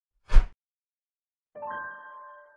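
A notification bell chime for a subscribe reminder: a short bright strike, then after a pause a ringing two-tone ding with sustained tonal partials that fade out, heard alone without any talking.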